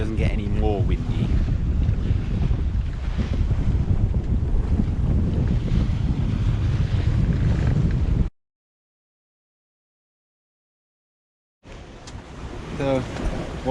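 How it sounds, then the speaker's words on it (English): Strong wind roars across an open microphone with surging sea noise aboard a sailing boat crossing the Bay of Biscay, continuous and loud, then cuts to silence for a few seconds before resuming with faint voices. "prefer it to be a little bit less windy, but hope it doesn't get any more windy"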